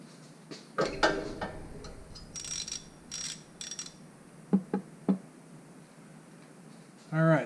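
A ratchet works loose the rear differential fill plug on a C5 Corvette, giving a few scattered clicking strokes and metallic ticks close by with pauses between them, and a short scrape near the end.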